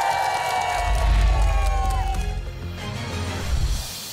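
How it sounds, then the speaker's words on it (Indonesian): A television cooking-show studio audience cheers and applauds both competing teams, a loud, steady wash of clapping and excited shouting with a host's voice carrying over it. "Berikan tepuk tangan untuk kedua tim"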